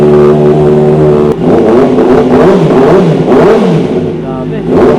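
A big bike motorcycle with frame sliders and low mileage is revved hard, several rising and falling throttle blips loud and close, with voices talking over parts of it.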